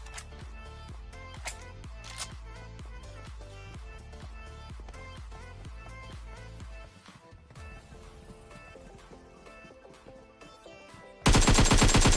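Rapid bursts of automatic gunfire ring out in a PUBG match, rhythmic shots repeating for several seconds before quieter distant firing and a sudden loud burst of noise at the end.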